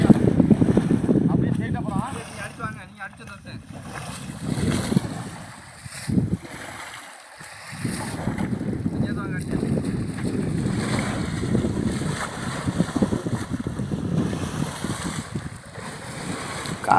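Strong wind roars across the mic over open sea off Thondi, Tamil Nadu, with the rumble of a fishing boat and lapping waves, while fishermen talk intermittently nearby.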